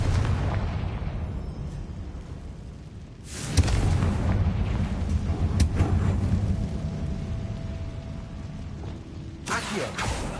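A Confringo blasting spell erupts in the Hogwarts Legacy game with a booming explosive burst over a constant background rumble, and a second blast flares near the end.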